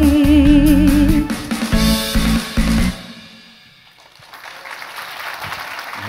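An audience applauds at a stage concert right after a song ends, the music's final loud notes fading into a broad wash of clapping.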